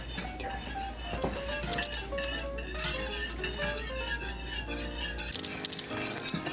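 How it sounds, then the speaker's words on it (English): Whisk scraping and clinking against a pot while stirring sweet and sour sauce, a busy run of metallic ticks and taps under faint background music. "whisking frequently until it has thickened and reduced by half"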